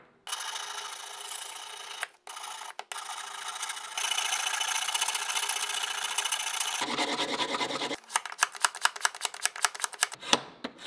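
A knife blade is stroked over 150 grit sandpaper to raise a micro bevel, a string of close, dry scraping passes, long continuous rasps that give way to quicker, choppier strokes near the end, with no talking.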